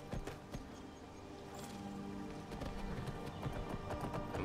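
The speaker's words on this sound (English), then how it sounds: "Let's go ahead and call our horse here" Rhythmic clip-clop of horse hooves trotting steadily in Skyrim Special Edition, close and clear, with faint ambient background.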